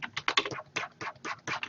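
Fast typing on a computer keyboard during a digital coloring session, a close, quick run of crisp key clicks in uneven bursts, heard on its own.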